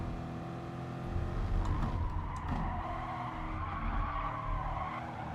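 Tyres squealing and skidding under hard braking of a race car in Gran Turismo Sport, a sustained screech over the engine drone lasting several seconds.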